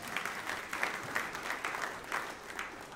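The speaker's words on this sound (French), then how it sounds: "applaudissent bien fort" An audience at a French-language church sermon applauding together, a steady, fairly faint patter of many hands clapping continuously without a break.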